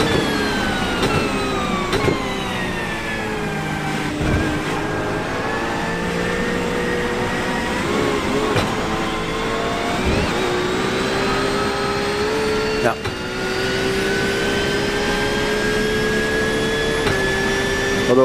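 GT3 race car engine in the iRacing sim at Monza, a steady loud high-pitched whine with rising and falling harmonic sweeps through shifts, with a brief dip near the end, running alone without talk.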